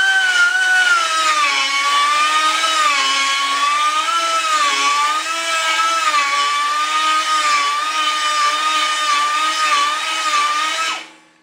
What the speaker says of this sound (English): this is a double cut carbide cutter. Great for grinding away larger amounts of steel and stuff like that